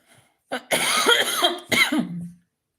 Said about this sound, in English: Excuse me for coughing so ugly.